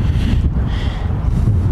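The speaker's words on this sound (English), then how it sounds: "it's kind of windy out here" Wind gusts buffet the microphone outdoors beside a garage, giving a loud, steady low rumble with rushing swells and no voices.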